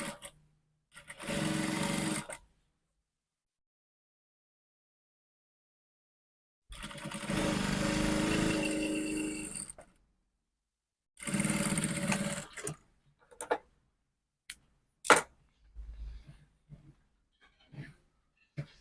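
A sewing machine stitching a folded seam with a half-inch allowance on a milkmaid dress, running in three bursts of steady whirring separated by silence, followed by scattered clicks and handling sounds.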